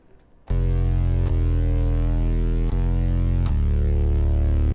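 A distorted synthesizer bass drones loud and steady, shifting pitch in a few sustained notes with a buzzy, harmonically rich tone and no voices.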